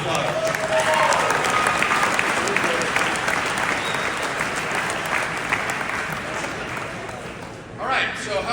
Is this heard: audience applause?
yes